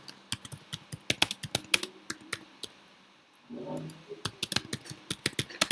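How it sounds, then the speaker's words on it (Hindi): Someone types on a computer keyboard in Notepad in bursts of sharp, close key clicks, with a short pause and a brief low hum midway before the rapid tapping resumes. "नोटपैड पे गए, यहाँ पे टाइप कर देते हैं"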